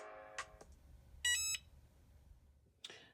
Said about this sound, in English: the mug press is beeping to indicate that